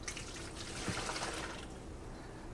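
Water from a tap runs steadily into a food grade container while curing brine is prepared for brown sugar-cured Canadian bacon, a close continuous splashing rush that thins out toward the end, with no talking.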